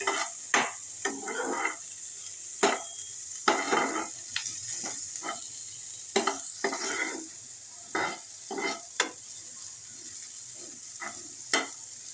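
Garlic frying in a pan over lowered heat for vegetable soup, a constant soft sizzle broken by repeated sharp scraping and clinking of a spatula stirring against the pan.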